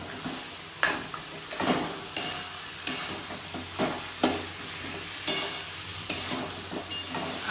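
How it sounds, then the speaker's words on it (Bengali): Two fish heads fry with spices in a pan, the sizzle steady while a spatula scrapes and stirs in repeated sharp strokes, close and fairly loud, with no talking. "এবার এর মধ্যে মাছের মাথা দুটোকে দিয়ে দেব, দিয়ে মশলার সাথে একটু কষিয়ে নেব।"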